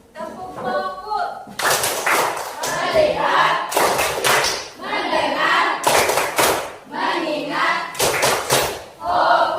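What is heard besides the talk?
class doing a rhythmic focus clap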